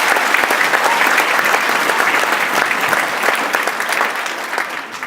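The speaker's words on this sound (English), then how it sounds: "If you could all give a round of applause." Parents in the audience at a middle school band concert applaud, dense steady clapping from a large crowd that fills the space and holds strong for the whole stretch.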